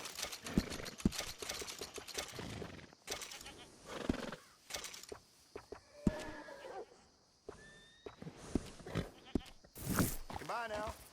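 Horse hooves clip-clopping in the video game Red Dead Redemption 2, quick hoof knocks mixed with a whinny and other animal bleats, close and fairly loud alongside talking voices.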